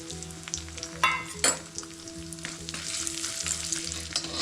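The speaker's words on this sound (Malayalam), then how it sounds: "ഇതിൽ കുറച്ച് നട്ട്സ് എടുത്തിട്ടുണ്ട്. അണ്ടിപ്പരിപ്പ്, മുന്തിരി, പിസ്ത, ബദാം. ഇതിനി വറുത്തെടുക്കാം." Cashews, raisins, pistachios and almonds sizzle as they fry in ghee for Kerala rava ladoo, a continuous close crackle with a few sharper stirring scrapes and clicks, no voices.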